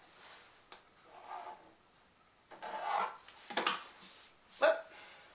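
Pen marking the corners of a fabric piece in a few short scratchy strokes, close but quiet, separated by brief pauses.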